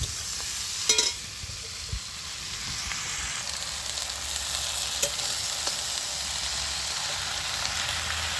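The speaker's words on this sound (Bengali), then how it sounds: "এবার আমি শাকটা দিয়ে দিচ্ছি।" Red amaranth greens go into a pan of fish oil and sizzle close and steady throughout, with a brief clatter near the start and a few light scrapes later.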